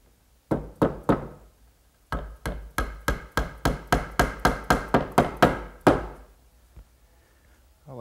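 A hammer drives wooden dowels into the legs of a slant-top writing desk: three sharp knocks, a short pause, then a steady run of about a dozen blows, close and loud.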